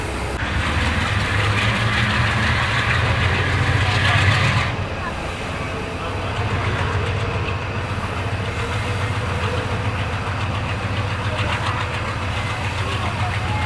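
Karachi Express passenger train rolling slowly along the rails in Sindh, a steady low rumble of wagons and engine heard from on board, louder for the first few seconds before settling into a continuous drone.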